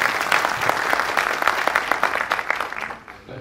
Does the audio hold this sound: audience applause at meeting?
yes